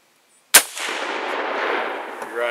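A single loud Mosin Nagant 91/30 rifle shot fired at a paper target, a sharp crack followed by a long, rolling outdoor echo that slowly fades.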